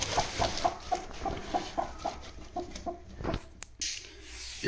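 A broody Aseel hen sitting on eggs gives a rhythmic run of short, close clucks, then a louder rustle and a thump follow.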